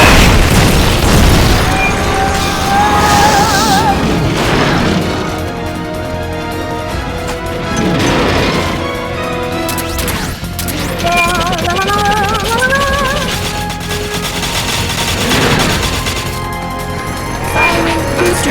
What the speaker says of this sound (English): They've okayed the request for supporting fire. It should commence any second now.